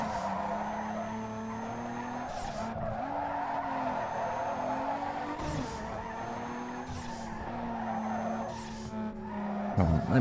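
A tuned car drifting in Need for Speed Underground 2, with a long continuous tire squeal that wavers in pitch over a steady engine roar, loud and close throughout.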